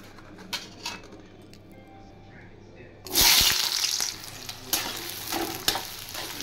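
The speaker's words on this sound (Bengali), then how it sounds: "এটা হালকা করে ভেজে নেব" Onions dropped into hot oil, a quiet kitchen giving way to a sudden loud burst of sizzling that then settles into steady frying with a few clattering stirs, close by.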